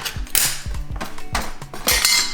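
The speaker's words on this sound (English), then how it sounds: "And a little bit of sweet corn. So just open that." A tin of sweet corn being opened in a kitchen, with several sharp metallic clinks and scrapes in quick succession, close and fairly loud, with no talking.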